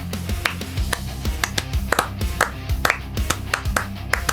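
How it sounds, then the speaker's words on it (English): A lone person claps hands in a steady, rhythmic series of sharp, close claps over a low tonal background, with no one else joining in. "No one else is clapping."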